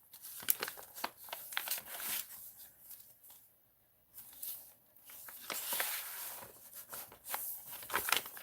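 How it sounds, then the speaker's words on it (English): Vintage magazine paper crinkled by hand while a handmade journal is collaged, giving a string of close, dry rustles and crackles with a short quiet gap midway. "Some vintage page from a magazine. Love this crinkly."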